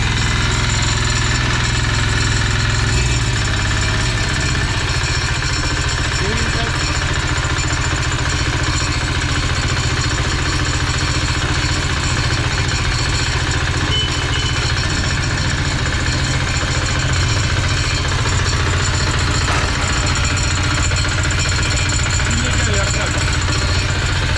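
A Yağmur YET300 diesel engine running right after its first start, a loud steady low chugging drone with mechanical clatter that stays even from start to finish, with someone talking over it.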